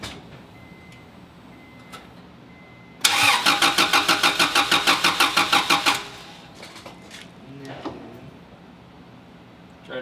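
With a new distributor fitted and a jump box hooked up, an Acura Integra's starter cranks the engine in a fast, even rhythmic churn for about three seconds. The engine does not catch, and quiet clicks and shuffling follow.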